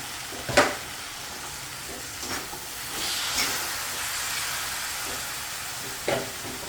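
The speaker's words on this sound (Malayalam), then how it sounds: "ദേ ആവശ്യത്തിനുള്ള ഉപ്പും കൂടി ഇട്ട് കൊടുത്ത ശേഷം നന്നായിട്ടൊന്ന് ഇളക്കി കൊടുക്കാം" Salted cabbage stir-fry in a pan gives off a steady low sizzle, punctuated by a few sharp clanks of a spoon against the pan as it is stirred.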